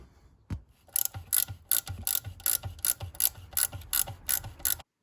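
Ratchet wrench tightening the top alternator mounting bolt with spacer on a 1974 Jensen Interceptor: a quick burst of about a dozen sharp, close metallic clicking strokes in steady rhythm, then it stops.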